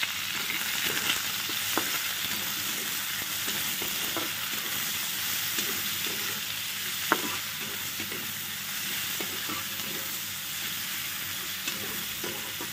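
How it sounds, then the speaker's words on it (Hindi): Onions frying in a pan in a village kitchen, a steady loud sizzle and hiss throughout with occasional scrapes and taps of stirring, close and continuous. "प्याज पूरा मस्त भाजी है"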